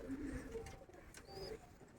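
A pigeon coos in a few low, rolling phrases, close and fairly faint, with a brief high chirp between them and no talk over it.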